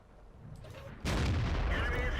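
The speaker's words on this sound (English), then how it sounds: "And I'm going to be able to reload and fire another shot" A tank cannon in World of Tanks fires once. A sharp, heavy blast cuts in partway through a quiet stretch, then rolls on as a loud, rumbling boom.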